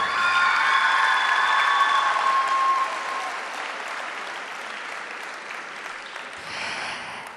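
Loud audience applause and cheering for a singer at an evening music festival, with a held vocal note ringing over the start before the clapping continues alone and thins out.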